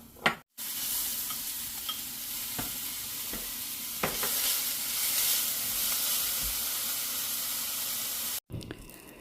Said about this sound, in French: elle a rajouté l'oignon et l'ail et elle fait revenir l'oignon et l'ail à feu moyen